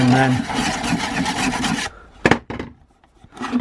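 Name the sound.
diamond sharpener deburring a shredder blade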